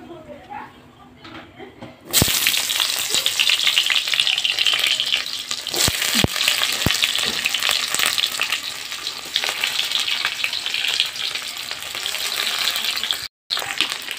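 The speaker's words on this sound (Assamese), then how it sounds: "তো এতিয়া ইয়াত কাটি থোৱা পিঁয়াজখিনি দি দিওঁ।" Chopped onions dropped into hot oil in a kadai start frying with a sudden loud sizzle that holds steady and close, broken by brief stirring clatters and a short gap near the end.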